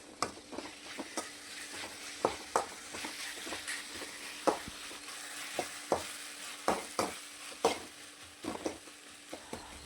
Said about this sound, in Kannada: ಇದನ್ನು ಮತ್ತೆ ನಾನೊಂದು ಸ್ವಲ್ಪ ಹೊತ್ತು ಚೆನ್ನಾಗಿ ಫ್ರೈ ಮಾಡ್ಕೊಳ್ತಾ ಇದ್ದೀನಿ